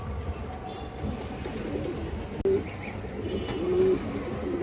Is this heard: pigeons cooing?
yes